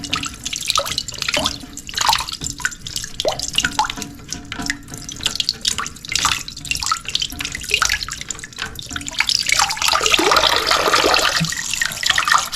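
Water pours, gurgles and drips steadily as a toilet tank drains during a float replacement, rising to a fuller rushing splash near the end, close and with no talking.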